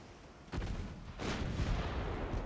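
Warship gun turrets fire in a naval battle in Ultimate Admiral: Dreadnoughts, giving two loud, booming broadside blasts, the second stronger and rolling on with a rumbling tail.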